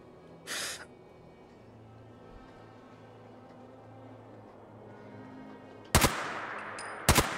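Gunshots in the video game Fallout 4: a faint early shot, then two sharp loud reports about a second apart near the end, over quiet ambient background.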